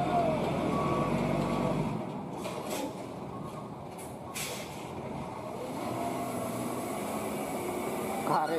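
Reversing beeps ring out as a truck hauling a giant drilling machine backs up, with engine rumble and air-brake hiss underneath, plus some distant voices nearby.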